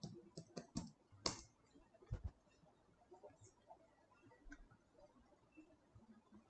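A command is typed on a computer keyboard, giving a short burst of close, sharp key clicks in the first few seconds before fading into quiet room noise, with no speech.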